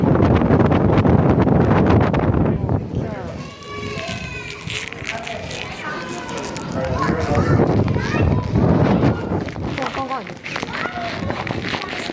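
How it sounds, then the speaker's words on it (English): Loud wind on the deck of the cruise ship Allure of the Seas rumbles and buffets the microphone while a person talks over it, the gusts continuing beneath the voice. "Dude, it is actually so windy."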